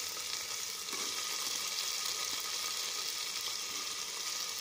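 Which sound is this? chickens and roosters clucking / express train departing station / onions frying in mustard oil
onions frying in mustard oil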